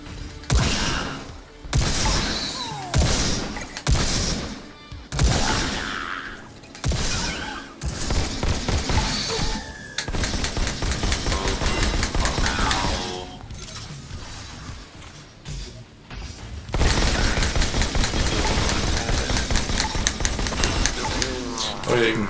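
Rapid bursts of gunfire in the Robo Recall VR shooter, loud and dense with a steady sustained volley toward the end, mixed with mechanical clanks and speech over the top.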